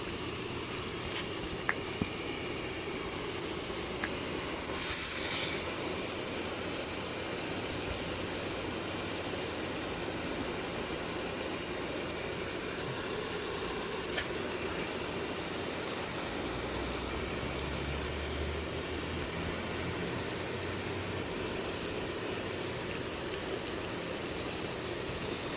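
Lawn sprinkler rotating and spraying water on a grass lawn, a steady close hiss of spray running continuously with little variation.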